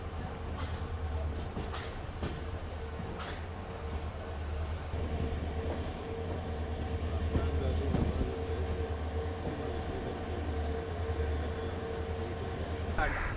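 Purna Express standing at a station in the Dudhsagar area, a steady low rumble of idling train machinery holding throughout, with faint voices and a brief sharper noise near the end.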